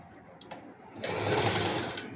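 A sewing machine stitches a skirt at a tailoring class, starting after a short pause with a faint knock and then a fast, steady, close mechanical whir that runs to the end.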